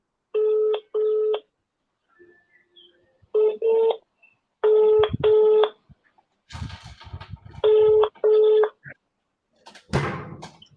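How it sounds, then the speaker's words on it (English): Telephone tones on an outgoing call, a series of regular electronic tone bursts with short pauses between them, loud and close, followed by brief noisy handling sounds. "Hope it's ringing."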